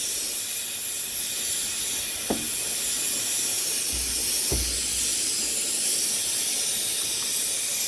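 A torch flame roars steadily while melting borax into liquid inside a new crucible being seasoned for metal casting, a constant loud hiss with a couple of brief knocks and no talk.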